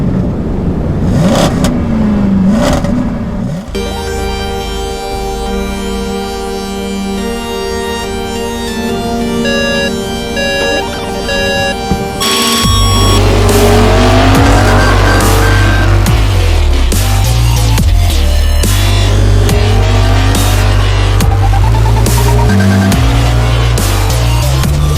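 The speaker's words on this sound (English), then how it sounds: "Drag race, bro. Let's race." A BMW and a Mercedes-Benz run a drag race, with engines revving hard and climbing through the gears, loud and close. Music plays over it throughout.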